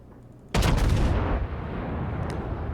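The main guns of the Scharnhorst battleship fire in World of Warships: a sudden loud, close booming salvo that rolls into a long rumbling decay, with no voices.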